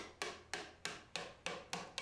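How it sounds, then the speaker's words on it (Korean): A craftsman beats a brass bowl into shape by hand with a hammer, seven sharp ringing metallic blows at a steady, even pace, each with a short bright decay, no voices. "형태를 잡기 위해 두드리고 또 두드린다"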